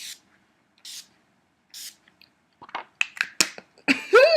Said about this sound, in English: Then I'm gonna finish off with some Urban Decay De-Slick Setting Spray.